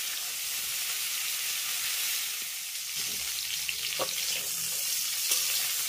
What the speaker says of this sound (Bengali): ফুলকপিগুলোকে একটু লাল লাল করে ভেজে নিতে হবে।